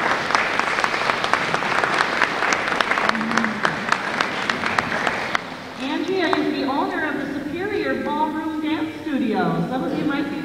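A school audience applauds a dance education liaison at a dance show, with dense, steady clapping for about five seconds before it gives way to a voice speaking over the hall.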